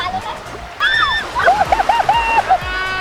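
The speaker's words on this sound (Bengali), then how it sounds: "ভাই ঢেউ আছে, দেখ ঢেউটা দেখ।" Sea waves splash and wash in at Digha beach, close and moderately loud, with several irregular surges while a person talks and a bird-like whistle rises and falls over the water.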